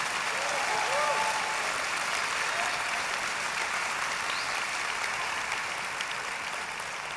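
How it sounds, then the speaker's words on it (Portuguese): A church congregation applauds in a dense, steady wash of clapping that continues without a break, with a few faint whistles or cheers rising above it. "pode aplaudir Jesus."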